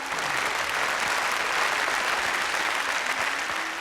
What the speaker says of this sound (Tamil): ஆண்கள்லாம் கைத்தட்டலாம்.